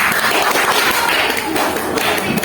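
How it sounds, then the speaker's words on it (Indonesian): A classroom of children claps for a group with loud, dense, continuous applause, heard close and filling the whole moment, with scattered voices mixed in. "tepuk tangan buat kelompok A"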